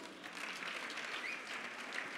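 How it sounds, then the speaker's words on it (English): A church congregation at a Sunday service claps steadily in a soft, distant wash of many hands, continuous and even for the whole stretch. "Let's clap for Jesus."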